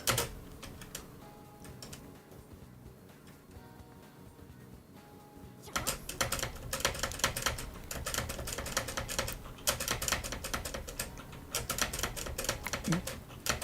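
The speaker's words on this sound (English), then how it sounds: "You guys are going to hear a lot of keyboard clicking today." Keyboard keys clicking rapidly while Persona 5X is played, starting sparse and quiet, then turning into dense, louder bursts of clatter over faint game sounds.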